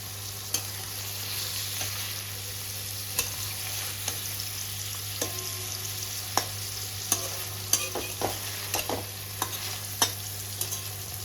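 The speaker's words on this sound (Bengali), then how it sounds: "আমি এখানে খালি লবণ দিয়ে পনিরগুলোকে ভেজে নিয়েছি।" Paneer cubes frying in hot oil with just salt, stirred in the pan: a steady low sizzle with repeated clinks and scrapes of the spoon against the pan, close and alone.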